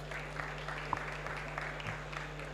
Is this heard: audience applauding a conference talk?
yes